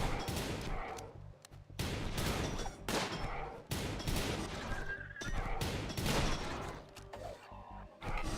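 Gunfire in a space shooter video game, with dense bursts of rapid shots and crashing impacts recurring across the whole stretch, loud and close, broken only by short gaps and carrying no speech.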